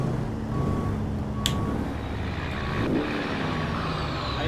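A bus reversing in American Truck Simulator gives evenly spaced short electronic beeps over a low diesel engine rumble, with a brief hiss and a faint squeal in the middle.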